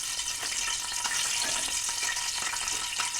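Nagkeshar spice dry-roasting in a pan, a steady bright hiss of sizzling with faint scraping stir strokes throughout, no voices.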